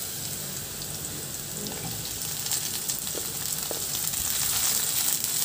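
Onion sizzles gently in hot oil with garlic and ginger in a pan, a soft steady frying hiss with faint crackles, growing slightly louder over a few seconds.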